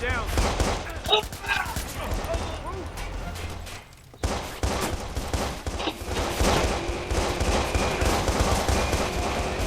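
Rapid gunfire bursts from the video game Watch Dogs crackle densely throughout, with a brief silent gap near the middle, layered over game effects and a voice in the background.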